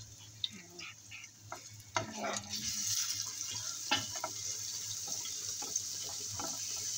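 Spoon scrapes and clinks against a pan over a steady sizzle of garlic tempering frying for chana dal, with irregular stirring sounds throughout.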